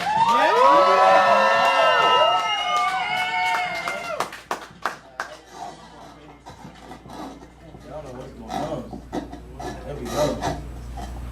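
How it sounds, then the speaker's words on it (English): A crowd at a hip hop show screaming in high, overlapping voices, then breaking into scattered sharp claps and cheers that fade and rise again. "Try to get y'all to just clap one time, just scream real quick."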